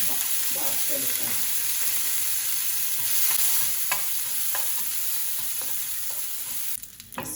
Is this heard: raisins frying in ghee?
yes